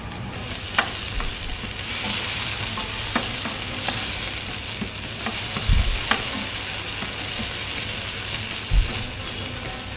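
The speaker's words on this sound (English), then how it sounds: "all I'm going to do now to my mushrooms is to add some of the jalapeno sauce to make it a bit saucy" Mushrooms sizzle in a hot pan as jalapeno sauce goes in, a constant frying hiss with scraping stirs and a few louder clatters of the utensil against the pan.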